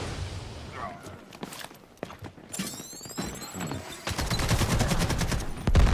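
Gunfire from the video game Delta Force, a tournament match: scattered shots crack through the first half, then a dense burst of rapid automatic fire builds louder toward the end, under a commentator's talk.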